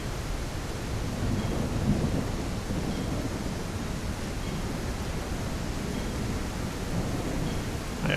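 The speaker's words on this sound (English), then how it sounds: "I appear to be in a storm." A thunderstorm with steady heavy rain in the video game Palworld, a dense, unbroken wash of rain noise with low rumbling beneath, constant in level and with no talk.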